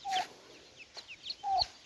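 Several Brahma chickens cluck nearby in short, sharp bursts and brief calls, with quiet pauses between them, on a small poultry farm.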